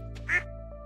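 A single short, bright duck quack from the farm game Stardew Valley, sounding once over a steady background of game music.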